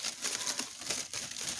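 Thick paper cover being handled, giving a soft continuous crinkling and rustling close by, fairly quiet, with no talking.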